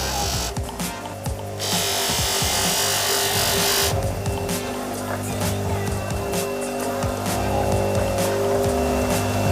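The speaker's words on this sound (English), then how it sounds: "Get the buffer fired up" A bench buffing wheel with compound whirring steadily against a turned gold resin piece, a continuous motor drone with rising and falling rubbing and friction hiss, loud and close, with faint rattling nearby and no talking.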